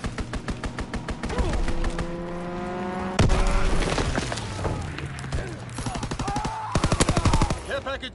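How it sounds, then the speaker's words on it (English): Fighter plane strafing with machine-gun fire in the video game Call of Duty: WWII, with rapid bursts of gunfire, an engine roar sweeping past and more bursts near the end. "Fighter pilot inbound, strafing the target."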